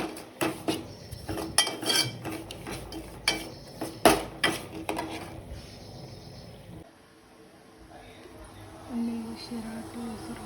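Sheera stirred in a pan in a village home kitchen: quick, close metallic scrapes and clinks of a spoon against the pan in uneven bursts, then a quieter stretch with faint kitchen noise.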